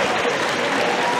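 A football stadium crowd applauds and cheers after a pass, a dense, loud, continuous roar of clapping with no break.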